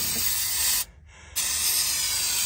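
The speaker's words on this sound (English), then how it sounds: "I take a little carburetor cleaner." Carburetor cleaner hissing from a spray can onto overspray glue in a 1967 VW Bug interior: two loud, close spray bursts separated by a brief pause, with no talk.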